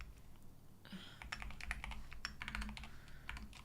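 Rapid, uneven clicks of typing on a computer keyboard, close and fairly quiet, in irregular bursts over a low background hum.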